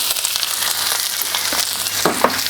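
Onions and peppers stir-fry in smoking-hot oil on a Kamado Joe ceramic grill, a loud, steady sizzle heard up close with a couple of sharper scraping stirs near the end.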